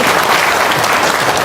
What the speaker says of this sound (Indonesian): Yuk, tepuk tangan dong, Semarang.